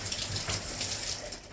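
A shower runs cold water from newly repaired household plumbing, a soft continuous splashing hiss that stays fairly quiet and even throughout.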